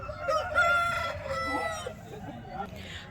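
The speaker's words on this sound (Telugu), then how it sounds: "మంచి బలమైన కోడిపిల్ల అండి" A rooster crows loudly and close by at a busy poultry market for young roosters, its long drawn-out call followed by clucking, with talk and market chatter underneath.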